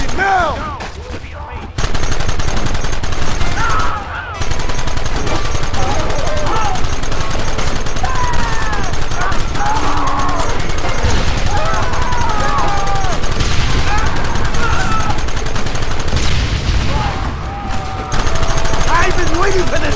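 Rapid gunfire crackles through a Red Dead Redemption shootout, loud and nearly continuous with dense overlapping shots and brief lulls, while voices shout over the battle.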